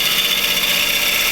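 A lathe tool turning the edge of a frozen green wood bowl: a steady, loud broadband hiss of cutting and shavings over the motor's hum, continuous and close.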